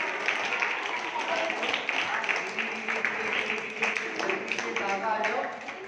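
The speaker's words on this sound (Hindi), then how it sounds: "ताली बजाओ आप लोग आके।" An audience at a magic demonstration for students claps steadily throughout, a moderately loud patter of many hands mixed with a voice talking over it.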